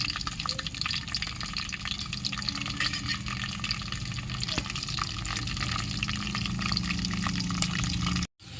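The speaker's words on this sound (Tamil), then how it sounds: "கருவேப்பிலை நல்லா பொரியட்டும்." Curry leaves fry in hot oil over a wood-fired stove, giving a steady sizzle and crackle with scattered pops that run throughout at moderate level before a sudden cutoff near the end.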